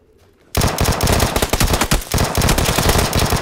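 Rapid automatic gunfire in the PUBG shooter on the snowy Vikendi map, bursting in abruptly after a quiet moment and continuing as dense, loud, overlapping volleys with brief gaps.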